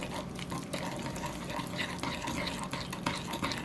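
Brown sugar is stirred into melted butter in a pan on a stovetop, a close, steady wet swishing and scraping with no talk.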